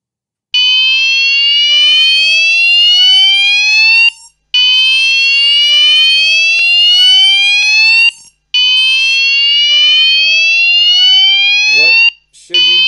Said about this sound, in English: Activate the fire alarm system.